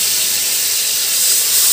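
Gobindobhog rice frying in a pan with whole garam masala, giving a steady, close broadband hiss and sizzle that swells slightly toward the end, with no talk.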